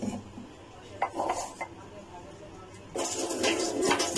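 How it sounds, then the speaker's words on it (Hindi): Salt and sugar being stirred together in a bowl, with clinks and scrapes of a utensil against the dish, loudest in short bursts near the start and a steadier busy stretch toward the end; no talking. "अच्छे से इसे मिक्स कर लेंगे so that salt and sugar जो हमारा है अच्छे से ये मिक्स हो जाए।"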